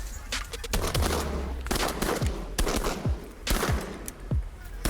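Hunters' shotguns fire at geese in a rapid volley of sharp, loud blasts, several shots clustered in quick succession across the field, with brief shouting between them.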